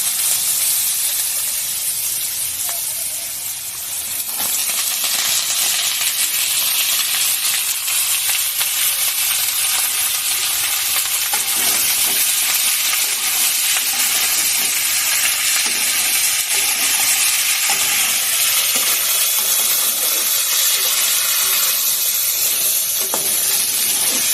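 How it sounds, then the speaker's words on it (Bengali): Potato pieces drop into hot oil and fry with a loud, continuous sizzle and hiss that briefly dips at the moment of dropping, then holds steady and close throughout. "তো এবারে আলুগুলো ছেড়ে দেবো।"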